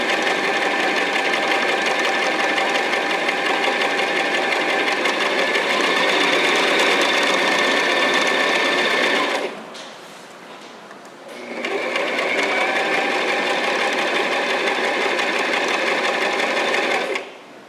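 A sewing machine stitches fabric for a basic school-uniform skirt, a loud, steady, close whirring hum that stops briefly for about two seconds and then resumes.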